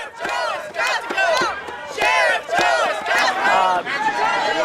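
A crowd of protesters in Arizona shouting in unison in rhythmic bursts, loud and close, with short pauses between chanted phrases.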